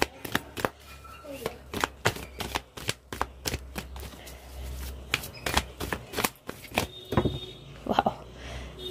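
Tarot cards are shuffled and riffled in quick, crisp bursts of snapping clicks throughout, close and fairly loud, with someone talking quietly between them.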